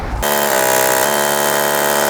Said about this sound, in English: I can use my larger bit and drill out and open up the hole of choice